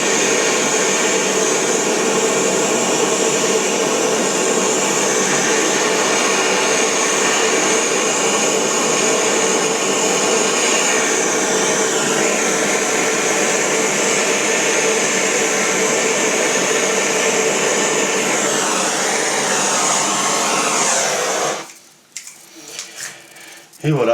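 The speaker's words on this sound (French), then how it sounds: "Et on vient souder." A gas torch soldering boiler pipes in a workshop gives a loud, steady roaring hiss that runs unbroken for about twenty seconds, then cuts off abruptly into near quiet.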